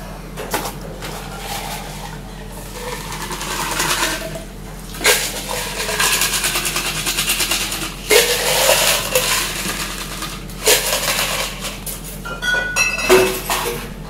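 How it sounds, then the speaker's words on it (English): Ice cubes clink and knock against glass with irregular bright taps, close by and fairly loud, mixed with some background clatter of glassware. "We add some ice."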